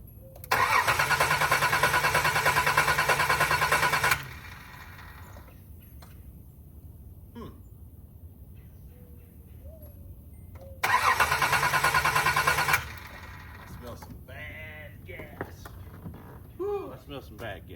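A 1984 Nissan 300ZX (Z31) that sat ten years cranks in two loud sustained bursts separated by a quiet gap, the starter grinding without catching; soft clanks and faint voices fill the pause and follow the second attempt.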